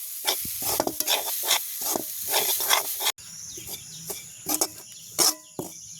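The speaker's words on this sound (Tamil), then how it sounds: "அளவு அடுப்பெரித்து நாங்கள் வறுக்கணும் அப்படியே வறுத்து கொண்டே இருக்கணும்" Grated coconut roasts dry in a pan at a village kitchen, with rhythmic scraping stir strokes in the first half, then quieter scrapes and brief sharp knocks, while a chicken clucks in the background.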